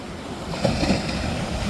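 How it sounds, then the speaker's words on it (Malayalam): Sea waves surging against an eroding rocky shore, washing sand away, with a steady broad wash of surf and wind noise and a slight swell midway, no voices. "ഓരോ തിരമാല അടിക്കും തോറും ഉടനെ അടുത്ത തിരമാലെങ്കിലും അങ്ങ് വന്നുകൊണ്ടിരിക്കണം"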